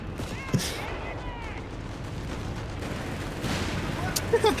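Big gun blasts and explosions from a Pershing tank battle in the Company of Heroes 3 strategy game rumble through a busy mix of shots and impacts, with a few sharp reports near the end.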